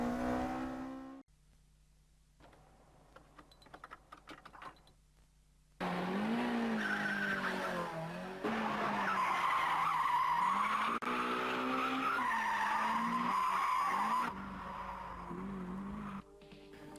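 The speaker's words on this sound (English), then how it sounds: "would grow up to completely solidify a new style of driving called drifting" A car drifts with its tires squealing and skidding, the wailing screech rising and falling over revving engine noise in several bursts after a quieter opening.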